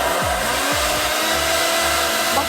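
A 1200W hair dryer blows with a loud, steady rushing roar at close range, while low motor tones sweep briefly near the start.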